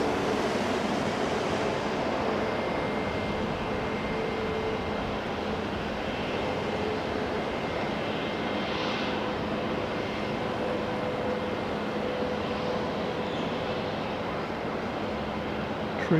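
A jet airliner in Malaysia Airlines livery roars at Auckland International Airport, a broad steady rushing engine noise that swells slightly midway and stays loud throughout.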